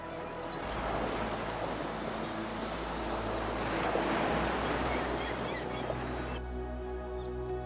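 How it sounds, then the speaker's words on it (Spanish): Gentle sea water washing against the Turkish coast, a steady broad surf wash with some wind across the microphone, holding fairly even throughout before softening slightly near the end. "la continuidad tranquila del agua tocando la costa una y otra"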